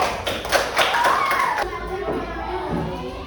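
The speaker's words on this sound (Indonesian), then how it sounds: "Aplaus untuk kelompok 3" A short burst of classroom applause for group 3 of pupils, quick uneven hand claps and taps for about a second and a half, then fading under a voice and children's chatter.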